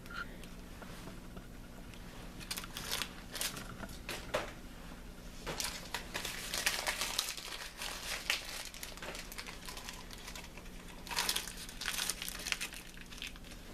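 Wrappers are peeled and crinkled off materials inside a hazardous-drug hood, giving soft, scattered crackling and tearing rustles in short bursts, fairly quiet and close, with no talking.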